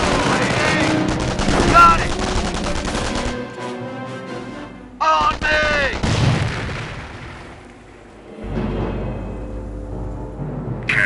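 Machine gun fire rattles in rapid bursts during a Company of Heroes battle at Hill 192 in Normandy, loud and dense, with booms, shouted voices and a brief lull before the firing resumes.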